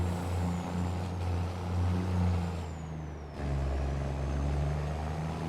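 A truck in the Farming Simulator 22 video game on the Elm Creek map idles with a deep steady engine rumble, broken midway by a sharp hiss of its air brakes, then settles back to a low drone.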